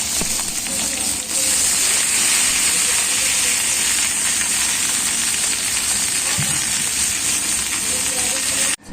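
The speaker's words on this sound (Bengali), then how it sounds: "যে ডালে ফোড়ন দিয়ে দিয়েছি" Spices for dal temper in hot oil with a loud, steady hiss and sizzle that runs unbroken for several seconds, close up, before cutting off abruptly near the end.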